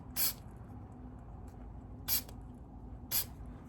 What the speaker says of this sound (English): So we're going to go with the spray dye here,